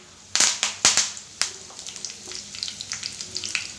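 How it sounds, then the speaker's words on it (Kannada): Curry leaves hit hot oil with a few loud, sharp crackling bursts, then settle into rapid, continuous spattering and popping close by. "ಕರಿಬೇವು ಹಾಕತ್ತಾ ಇದ್ದೀನಿ"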